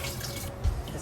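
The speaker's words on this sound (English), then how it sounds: "I need to add a lot more water then." Tap water pouring into a pot of chili with quinoa in a home kitchen, a steady splashing rush with a brief low thump near the end.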